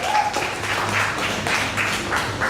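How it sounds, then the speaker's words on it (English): An audience at a poetry event gives the DJ a round of applause, moderately loud clapping that swells and eases in waves, with murmuring voices faintly underneath. "Give her a round of applause, ladies and gentlemen."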